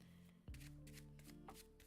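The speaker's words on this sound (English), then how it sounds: "so I need to shuffle them again" Deck of game cards shuffled by hand during a solo tabletop monster-battle game, a single sharp riffle burst followed by soft card rustling, close and alone.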